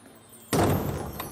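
A door opens indoors: one sudden wooden thud follows a quiet moment, then dies away with a faint knock.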